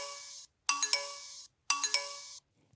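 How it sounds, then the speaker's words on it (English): An iGlucose blood glucose meter powers up with three clear electronic chimes, each a bright, ringing multi-tone ding, spaced evenly and heard close with silence between them. "You will see the display light up and may hear the meter chime 3 times."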